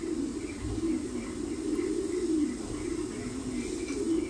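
Domestic pigeons, including young birds close to laying age, coo nearby in a soft, low, steady murmur that rolls on continuously with no talking.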